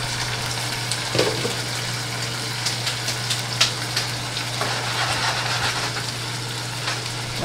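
Tomato sauce sizzles and crackles steadily in a frying pan, with a constant low hum beneath and occasional stirring clicks, fairly close and without voices.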